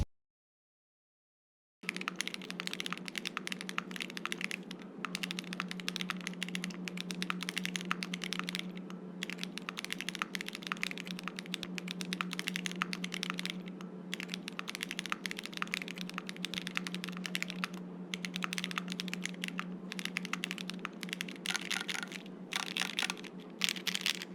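Steady, rapid clacking of a Thera75 V2 mechanical keyboard being typed on without its foam, keys sometimes bottoming out, close and continuous after a short silence, over a faint low hum.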